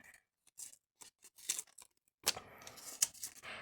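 A small paper surprise packet being torn open at its notch, with short crisp rips and crinkles in bursts separated by brief pauses, close and quiet.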